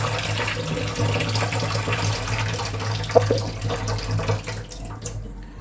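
Soaked flattened rice (chira) is washed by hand under running water from a tap, making a steady close splashing and gurgling that fades near the end.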